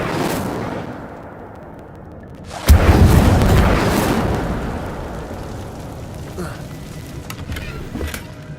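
A fire spell cast in the video game Hogwarts Legacy bursts out as a sudden loud whoosh and boom after a quiet moment, then fades into a lingering roar and crackle over several seconds.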